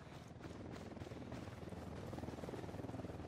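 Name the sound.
helicopter in a video game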